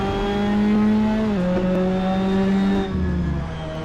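Ginetta GT5 race car engine in a motion racing simulator holds a steady loud drone, its pitch dipping slightly as the car lifts off and then pulls on, with a brief lower drop near the end; no talk.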